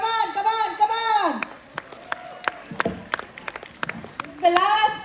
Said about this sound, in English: Big round of applause, parents